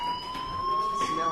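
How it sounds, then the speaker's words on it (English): A fire alarm in the video game Life is Strange rings as a steady, piercing electronic tone with bright harmonics, continuous and loud under a faint wash of background noise and brief speech. "do you hear that fire alarm? That means you should be outside."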